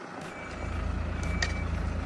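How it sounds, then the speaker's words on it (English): A lorry manoeuvres on a farmyard during a concreting job, its low engine rumble steady underneath while a thin, faint reversing warning tone sounds over it. "So Chunky, expert banksman Chunky, just getting the lorry round here."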